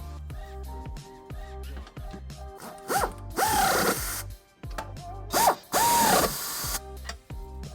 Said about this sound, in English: we can snug them up using an 11/16 socket